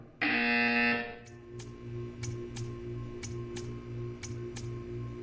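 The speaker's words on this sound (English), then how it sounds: "You will hear a buzzer" In the video game Portal 2, a loud sustained electronic buzzer tone sounds for about a second, then cuts off, leaving a faint humming background with a series of sharp ticking clicks.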